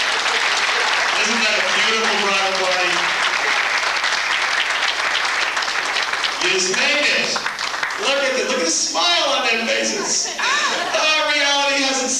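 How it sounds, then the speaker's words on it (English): A crowd at a wedding gives a long, loud round of applause, continuous clapping with people talking, cheering and laughing over it. "round of applause for him"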